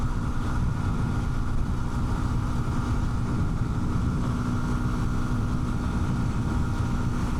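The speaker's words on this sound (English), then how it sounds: "Now you're certainly listening to this engine sing out" Kawasaki KLX230 Sherpa S dual-sport motorcycle engine holding a steady drone at highway speed, loud and continuous with wind rush, no talking.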